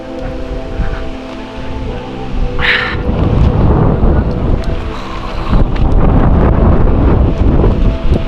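A strong mountain storm wind blows from the east on Mount Kembang near Wonosobo, Central Java. It roars and buffets the microphone continuously and loudly, with heavy gusts rising toward the end.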